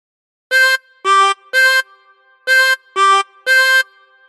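A 24-hole tremolo harmonica plays a short Frère Jacques phrase as six separate reedy notes in a steady rhythm, close and clear, with no talking.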